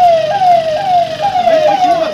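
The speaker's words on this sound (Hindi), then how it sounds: "शिवमोगा में फैले तनाव के बीच सायरन की आवाज गूंजने" A police siren wails steadily in Shivamogga, rising and falling in repeated sweeps that stay loud and close throughout, with no other clear sounds alongside.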